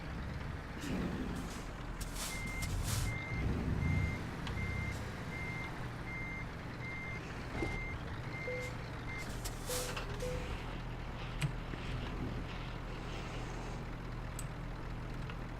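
A truck in Euro Truck Simulator 2 backs onto its trailer, a steady series of evenly spaced reversing beeps running over a low diesel engine drone, with a brief air-brake hiss near the end.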